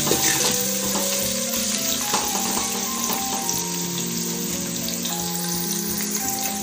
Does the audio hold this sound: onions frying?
yes